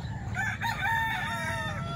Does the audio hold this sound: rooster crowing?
yes